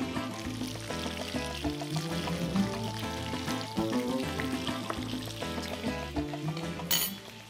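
BBQ chicken seasoned with garlic powder cooks in a pan over heat, a steady sizzle running under background music for the whole stretch.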